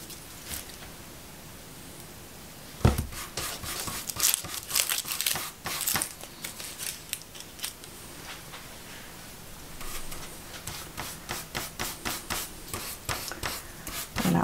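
Tissue paper being brushed and glued onto a painting gives crinkling, rustling brush strokes, with soft scratchy swishes arriving in irregular bursts, close and fairly quiet, with no speech.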